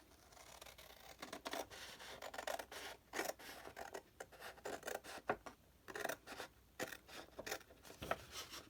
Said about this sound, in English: I'm just going to cut on that line.